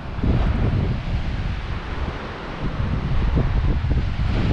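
Strong wind roaring steadily across a coastal headland in Cornwall, buffeting the microphone with continuous low rumble and gusty noise for the whole stretch, with no talk over it.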